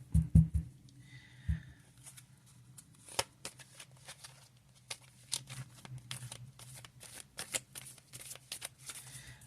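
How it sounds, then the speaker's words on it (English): Deck of tarot cards handled and cut: a few soft thumps, then scattered quiet card slides and flicks, close and faint in a quiet room. "I'm just going to actually cut the deck."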